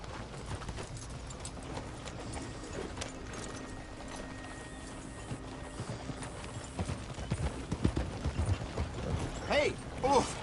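Hooves clip-clop at a steady walking rhythm through a busy Red Dead Redemption 2 game soundscape, with a few louder thumps and a brief horse snort near the end.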